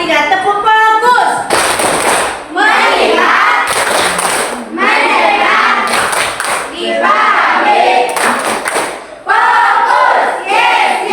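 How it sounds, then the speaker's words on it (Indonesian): A group of schoolchildren does a rhythmic classroom "tepuk fokus" chant-and-clap, loud sharp claps in bursts separated by shouted chanting voices, close and energetic. "Kita sama-sama untuk bertepuk semangat."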